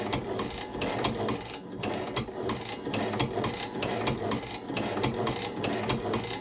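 A Chinese shoe patcher sewing machine runs steadily with fast, rhythmic mechanical clatter and repeated needle strokes, close and continuous throughout, with no talking.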